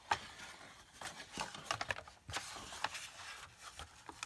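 Scissors cutting through material for a junk journal spine, a series of quiet, close crisp snips and rustles in irregular rhythm.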